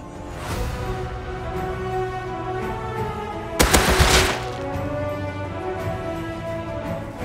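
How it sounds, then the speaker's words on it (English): Explosive-ammo gunfire in Rust, a single sharp loud burst of rapid impacts in the middle, standing out against a steady droning game background. "You shooting at me with fucking explosive ammo."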